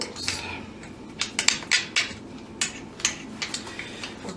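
Thai chicken marinade of lemongrass and other aromatics being ground into a paste with coarse salt, heard as close, rhythmic scraping and clinking strikes of a utensil against a hard vessel, a dozen or so distinct knocks with no talking.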